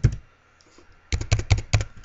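Fingers type on a computer keyboard, close and crisp. One early keystroke is followed by a pause, then a quick run of four or five clacks.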